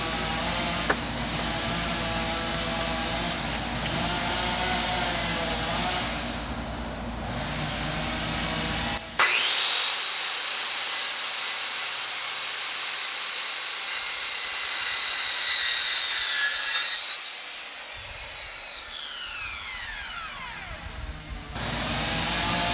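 A power saw blade cuts through lumber for a queen-sized loft bed frame, spinning up with a loud, steady high whine for several seconds, then winding down as the piece comes free, with no talking.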